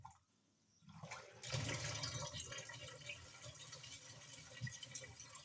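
Water rushes from an inlet into the wash tub of a twin tub top-load washing machine, a steady gushing stream that starts after a second of quiet and keeps flowing.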